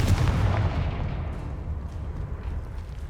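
A Confringo blasting spell explodes in Hogwarts Legacy with a loud, deep boom whose rumbling blast decays slowly over a few seconds, with no voices.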